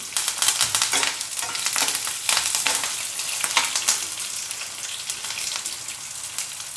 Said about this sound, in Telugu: ఇప్పుడైతే ఉల్లిగడ్డ వేగుతా ఉంది కదా కరేపాకు వేసుకోండి కొద్దిగా